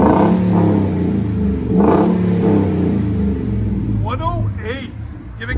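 A 2020 Ford F-350 with the 7.3L V8 gas engine and a custom Borla XR1 exhaust, revved hard and held as a loud, steady, close roar, with people talking over it toward the end.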